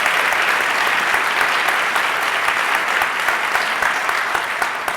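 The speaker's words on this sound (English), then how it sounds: "round of applause" An audience at a swearing-in ceremony held in a middle school claps in a loud, steady, dense round of applause filling the whole stretch.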